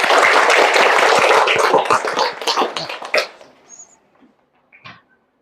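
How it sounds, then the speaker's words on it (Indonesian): Clapping from an assembled group at a teacher-training ceremony at a Hindu university, a dense burst of many hands that thins out and stops after about three seconds, followed by a few faint scattered sounds. "Kalian tepuk tangan dulu buat semuanya"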